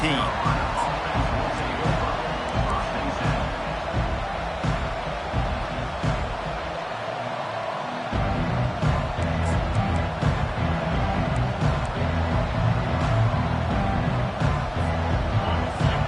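Stadium crowd noise from the Madden 23 football video game forms a dense, continuous roar under constant play-by-play commentary, dipping briefly in the middle before swelling again.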